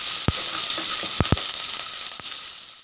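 Crushed garlic and green chili sautéing in a pan for spinach soup, giving a steady soft sizzle broken by a few sharp clicks of a spoon against the pan.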